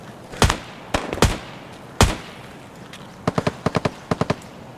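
Gunfire in an online tournament video game, a few scattered sharp shots followed by two quick bursts of three evenly spaced reports, loud and close with no talking.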